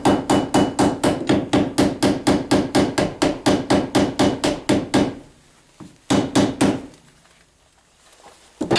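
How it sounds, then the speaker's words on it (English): A small hammer peening the clipped end of a knife handle pin, a fast steady run of sharp metallic taps close by, then a pause and a few more quick strikes. "go ahead and peen that end"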